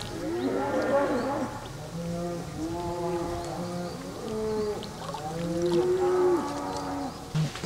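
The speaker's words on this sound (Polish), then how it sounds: "Pewnie jakieś krowy. Po lesie sobie spacerują." Cows moo repeatedly in a Dartmoor woodland, several long, drawn-out calls close by, one after another with short pauses between them.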